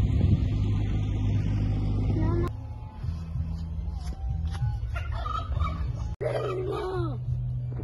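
Geese call outdoors in a few short honking bursts, the loudest near the end, over a steady low rumble of background noise.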